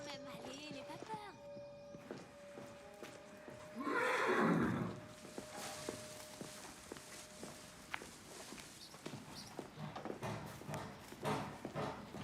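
A Shetland pony gives a single loud, close whinny midway through, set among hoof clops and footsteps on a riding ground, with people talking nearby.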